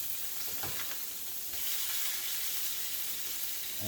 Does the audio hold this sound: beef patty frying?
yes